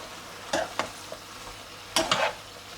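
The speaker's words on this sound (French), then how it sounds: "Il faut faire suer l'oignon" Onion sweats in a pan with a soft sizzle, broken by two pairs of sharp scraping stir strokes, close and fairly quiet.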